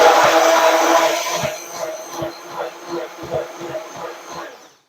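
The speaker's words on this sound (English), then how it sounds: "turn the immersion blender on." An immersion blender whirs loudly while making mayonnaise, then its motor winds down to a softer, pulsing hum before stopping.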